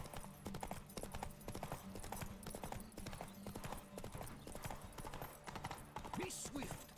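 Roach, the horse in the game Witcher 3: Heart of Stone, gallops in a steady, loud clip-clop of hooves with a brief whinny near the end, under game music and ambience.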